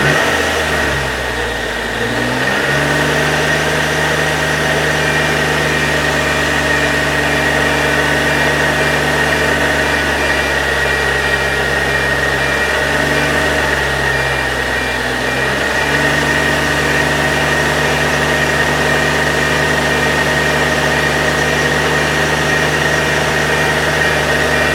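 Car engine running steadily at raised revs of roughly 2,500 to 3,500 RPM during a charging system check, a loud, constant hum after a brief climb from idle, with slight dips and recoveries midway.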